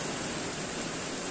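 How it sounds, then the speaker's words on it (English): Heavy rain streams off the back roof of a farm building in a steady, dense broadband wash of water, continuous and even with no breaks, close and fairly loud. "It's proper raining."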